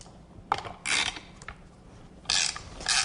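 A hand-cranked Wizard embossing machine feeds a card through with bursts of grinding, creaking mechanical noise, several separate passes of rolling gears with brief pauses between them, close and fairly loud.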